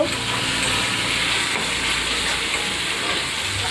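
Meat frying in a pan, cooked at night in a home kitchen, gives a loud, steady broadband sizzle that holds without a break, close and constant throughout.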